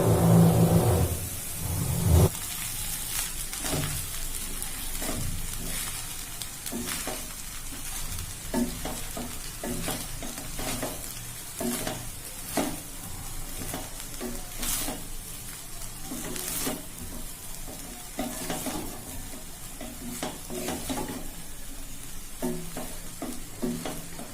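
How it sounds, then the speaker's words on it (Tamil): Thuvaiyal chutney sautéing in a pan for Tamil ragi idli upma, a steady close sizzle and frying crackle with frequent scraping stirs of a spatula, no talking throughout. "துவையல் போட்டு 2 நிமிஷம் வதக்குனதுக்கு அப்புறமா இட்லியை கொட்டிக்கலாம்"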